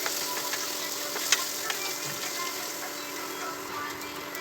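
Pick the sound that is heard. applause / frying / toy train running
frying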